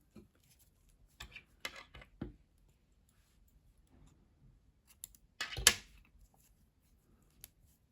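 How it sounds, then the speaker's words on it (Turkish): Scissors snipping white knitting yarn while a baby vest is being knitted, a handful of sharp close clicks and snips spread over quiet pauses, with one louder cut near the middle. "Beyaz ipliği kesiyorum."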